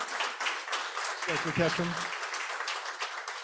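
An industry forum audience claps at a moderate, fairly distant level while a speaker briefly says a name over the applause.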